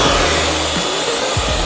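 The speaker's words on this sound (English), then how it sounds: "what I'll do is I'll take my blow dryer" Handheld blow dryer used during a tapered haircut, running steadily and loudly as one close, continuous whooshing drone from start to finish.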